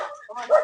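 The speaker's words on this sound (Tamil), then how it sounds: "ஜாராவை பார்த்து பக்கத்து ஏரியா நாய் கொலைக்குது" A neighbourhood dog barks in short, close yelps across a brief moment, with a louder bark near the end and voices mixed in.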